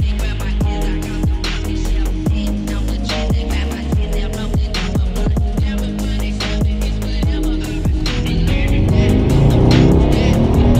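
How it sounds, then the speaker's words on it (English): Mercedes-AMG GT63S driving, a loud, steady engine drone with repeated rapid bursts and rumbling as it moves, close and continuous throughout. "Mercedes AMG GT63S. Now this is a special one."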